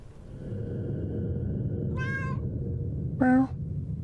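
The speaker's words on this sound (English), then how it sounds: "That's the kitty cat." A cat meows twice in the video game Nightmare of Decay, two short clear tonal calls about a second apart over a low steady game ambience hum.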